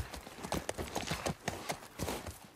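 Horse hooves clip-clopping in The Last of Us, a steady rhythmic run of sharp hoof strikes, fairly close and continuous throughout with no clear talk over it.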